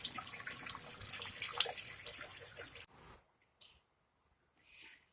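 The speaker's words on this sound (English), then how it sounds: "just rinse once or twice" Tap water runs steadily into a jar of sprouts as they are rinsed, a close, splashy gush that stops abruptly partway through, followed by a few faint drips and light clinks.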